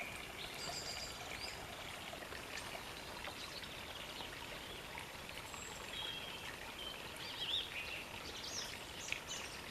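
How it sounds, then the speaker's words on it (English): A mountain stream babbles and trickles steadily nearby in a wood, with a few small birds chirping faintly in the background. "the water is lovely and clear"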